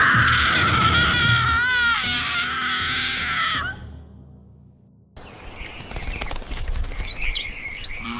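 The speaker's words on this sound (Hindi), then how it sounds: "सुबह हुई, चिड़ियां चहचहा रही थीं" Birds chirp in the morning in a bright, warbling run of calls lasting a few seconds, which stops abruptly and gives way to quieter rustling noise.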